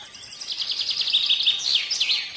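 Small birds singing, a bright rapid run of high chirps and trills, close and clear over a quiet background with no voices.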